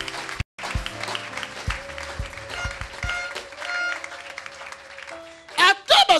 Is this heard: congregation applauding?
yes